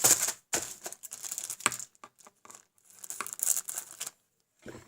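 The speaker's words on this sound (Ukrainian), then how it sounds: "і розріжу цей журнал" Crisp snipping and crinkling of scissors cutting open a glossy Barbie magazine, a series of short bursts with brief pauses, close up and without talk.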